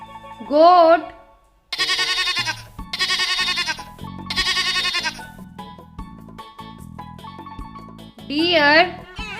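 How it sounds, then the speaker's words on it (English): A goat bleats loudly and close, a wavering cry at the start and again near the end, with a bright patterned musical backing in between. "goat,"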